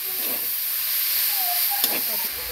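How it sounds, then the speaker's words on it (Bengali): Carrots and other vegetables for veg momo filling stirred in a hot pan, giving a constant loud hiss and sizzle with a few soft scraping strokes, close and uninterrupted by speech. "এরপর গাজর দিয়ে ভালো করে নাড়তে থাকবো। এইভাবে নাড়তেই থাকবো।"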